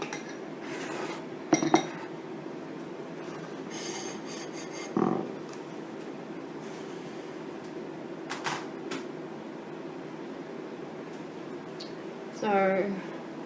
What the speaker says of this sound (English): I've got some dishes to be done just while the tarts are cooking.